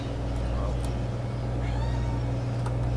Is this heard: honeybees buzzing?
no